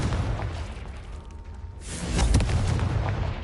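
A Confringo spell blast in Hogwarts Legacy, a dull booming explosion swelling about midway and rumbling on to the end over steady game background noise.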